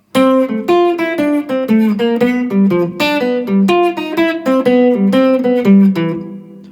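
Jazz guitar plays a II–V–I lick, a steady stream of clean, distinct single notes moving in a flowing melodic line for several seconds, close and clear with no talking.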